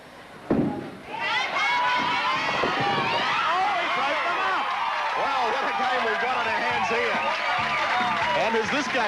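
A crowd at a men's bowling match erupts after a sharp thud into loud, sustained cheering and excited shouting, close and filling the room for several seconds.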